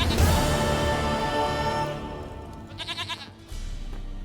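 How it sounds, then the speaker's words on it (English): A goat in The Witcher 3 lets out a long, loud, close bleat, followed by a shorter wavering bleat. "Goat of mine, dearest, sweetest goat."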